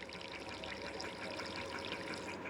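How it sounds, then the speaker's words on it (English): Liquid medicine pouring from a bottle into a cup in a children's learning app game, a steady trickling pour that runs evenly and closely for the whole stretch. "Pour the medicine from the bottle to the cup"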